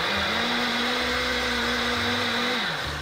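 A kitchen blender runs steadily and loudly, mixing a cream-based licuado, its motor holding a constant whirring pitch before winding down near the end, with no talking over it.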